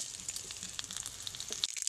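Whole spices, including panch phoron, dried red chillies and bay leaves, fry in white oil in a kadai with a faint, soft sizzle and scattered small pops and crackles.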